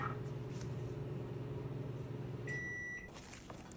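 A microwave oven heating a bowl of frozen broccoli hums steadily and close, with a steady low drone and a brief higher tone near the end.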